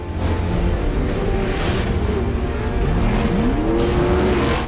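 Pro Lights off-road race trucks at a TORC short-course race roar off the start in a loud, dense wall of engine noise, revs rising and falling as the pack charges into the first turns.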